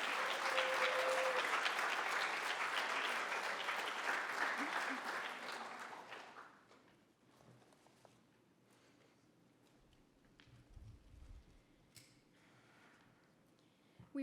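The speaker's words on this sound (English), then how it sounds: "we want to give them another round of applause" Audience at an academic symposium keynote applauding loudly with dense, sustained clapping for about six seconds, then fading to quiet room noise with faint scattered sounds.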